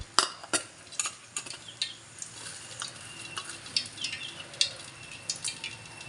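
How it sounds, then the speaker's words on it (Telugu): Fenugreek seeds, dried red chillies and other tempering spices are stirred in hot oil in a home kitchen, with repeated sharp clinks and scrapes of a utensil against the pan over a faint sizzle. "వేసేస్తున్నాం పోపులు"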